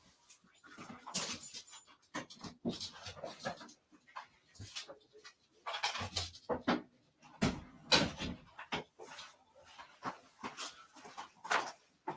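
A dog moves about indoors, panting, whimpering softly and bumping against a cupboard or door in scattered bursts, fairly faint and close, with no speech.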